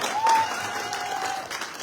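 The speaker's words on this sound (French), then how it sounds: "applaudissez-le!" Applause from an audience welcoming a newly joined team member, a photographer and activist, at a political gathering in Créteil; dense, steady clapping at moderate volume that fades slightly toward the end.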